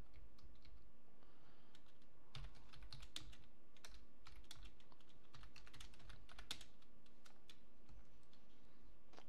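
Typing on a computer keyboard running AmigaOS: quick irregular bursts of crisp key clicks close up, with short pauses between flurries, over a faint steady hum.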